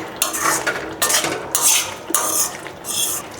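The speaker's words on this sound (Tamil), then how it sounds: "இதை கலந்து விட்டுடலாங்க ஒரு நிமிஷம்" A spoon stirs thick Kerala-style erissery curry in a pot, scraping and clinking against the metal in four or five distinct bursts, close and fairly loud, with no talking.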